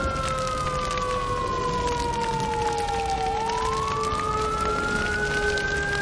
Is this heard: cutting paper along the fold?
no